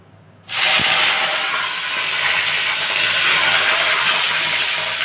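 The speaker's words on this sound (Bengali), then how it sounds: "আমি লঙ্কাগুলো ফোড়ন দিই" Green chilies dropped into hot oil for tempering while cooking aloo posto burst into a loud, sudden sizzle that settles into a steady hiss and keeps going.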